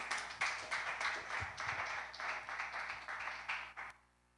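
A church congregation gathered for a couples' meeting applauds together in a steady wash of clapping that runs for about four seconds and then stops abruptly.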